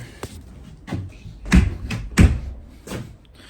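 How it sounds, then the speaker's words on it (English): Door being shut inside a cargo trailer, a series of separate knocks and thuds, with two heavier bangs in the middle, close and fairly loud, no talking. "Just going to shut the door."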